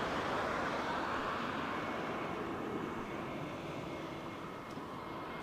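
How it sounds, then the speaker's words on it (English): An EasyJet airliner arriving from Geneva at Barcelona El Prat airport gives a steady, distant engine roar that holds evenly throughout with no talk. "EasyJet from Geneva, coming your way"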